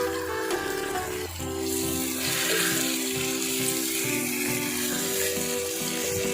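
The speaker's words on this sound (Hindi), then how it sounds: "फ्लेम को हाई कर दें और गवार को अच्छे तरीके से भून लें मसाले में।" Cluster beans (guar) fry in masala over a high flame with a loud, continuous sizzle and crackle, and a steady hum runs underneath throughout.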